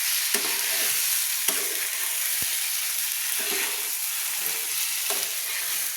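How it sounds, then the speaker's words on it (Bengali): Fried prawns and pointed gourd are stirred in a sizzling pan, giving a steady soft frying hiss with occasional scraping strokes and clicks of the spatula against the pan, no talking. "দিয়ে আমি ভালো করে আবারও নেড়ে নিচ্ছি।"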